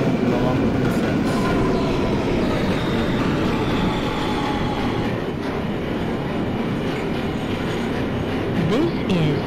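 An R160B New York subway train runs steadily in the OpenBVE simulator, its continuous loud rumble carrying rail noise and brief wheel squeals.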